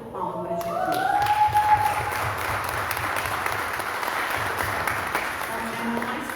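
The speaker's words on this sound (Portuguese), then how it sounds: "Uma salva de palmas para Jesus" Church congregation giving a round of applause for Jesus, dense continuous clapping filling the room at moderate loudness, with a faint tone and a voice briefly audible early on.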